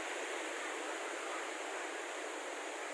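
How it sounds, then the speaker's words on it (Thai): A stream flows right beside a holiday house at Khlong Maduea in Nakhon Nayok, a steady broadband rush of water with no variation, fairly faint and alone. "ลำธารอยู่ด้าบ้านเลยนะครับ"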